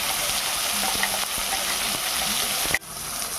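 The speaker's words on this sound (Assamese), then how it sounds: "দেখিছে এইখিনি ভাজি আছোঁ" Ginger, garlic and mustard paste fries in hot oil with a steady, dense sizzle throughout, a few faint scraping stirs, then a brief dip near the end before the frying resumes.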